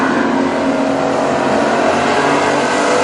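WISSOTA street stock race cars running side by side through a corner at Princeton Speedway, a loud, sustained roar of engines at full throttle, dense and continuous with overlapping motors.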